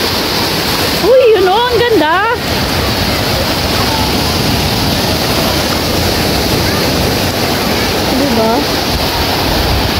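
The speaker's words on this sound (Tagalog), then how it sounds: "Grabe yung alon." Strong ocean waves roll and crash on a beach in a steady, loud, broadband wash that fills the whole clip, while people talk excitedly near the start and again briefly toward the end.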